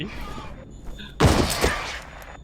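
Gunfire and a burst as a gas tank is shot in the first-person shooter F.E.A.R.: Extraction Point, a loud broadband blast erupting midway after quieter game ambience.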